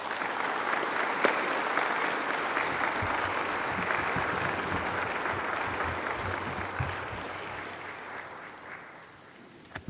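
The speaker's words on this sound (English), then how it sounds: "may we now give our full presence to our recipients with whole hearts and thunderous applause" Award ceremony audience clapping steadily and loudly for nearly ten seconds, a dense even wash of hands that thins slightly near the end before fading out.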